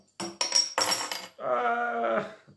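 Trooper (Iron Maiden) beer bottle being opened with a bottle opener: a few sharp metallic clinks and scrapes on the cap and glass, then a longer steady hiss, all close up with no talking.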